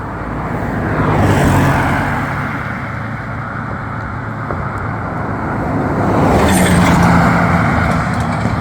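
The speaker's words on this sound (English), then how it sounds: "Car behind me." A car drives close behind at night on a road, its engine and tyre noise steady and fairly loud, swelling twice as it nears, with no talking.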